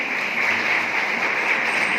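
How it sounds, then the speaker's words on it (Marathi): An audience at a public rally gives a singer a round of applause, a steady dense wash of clapping at moderate level with no voices over it. "या एकदा जोरदार टाळ्या वाजवा या गायकासाठी."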